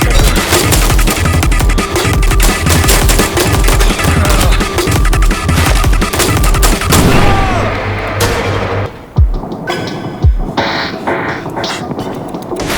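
Heavy gunfire in the story-mode shooter game I am your Beast: dense, loud bursts of rapid automatic fire and shots for several seconds, easing into a few separate sharp bangs near the end.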